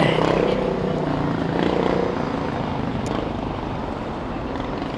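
A camera drone flies high above a construction-site crane in London, giving a steady, droning propeller whir that stays fairly loud and even throughout, with a faint background hum.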